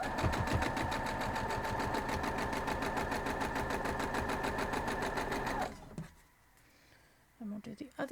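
Sewing machine running a long steady seam on a paradox quilt block, a fast even stitching rattle for several seconds that stops abruptly, followed by quiet handling noises and a brief voice.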